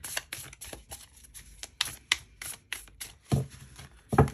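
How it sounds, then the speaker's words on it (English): A deck of tarot cards being shuffled by hand, a series of quick papery riffles and taps with louder snaps near the end, close and fairly quiet with no talking. "let me do one more shuffle and I'll pull some more cards"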